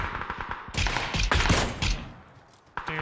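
Gunfire from the video game PUBG arrives in several sharp bursts and single cracks at moderate loudness, with quieter gaps between them.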